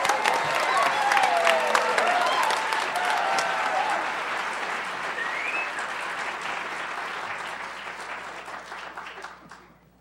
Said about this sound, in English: please give a warm round of applause for your cast of the 2013 Michiana Monologues